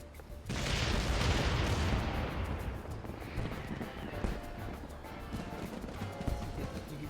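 Explosions in the video game Final Fantasy XVI, a sudden loud blast followed by a sustained rumbling roar with scattered crackling bursts, fading slightly but continuing throughout.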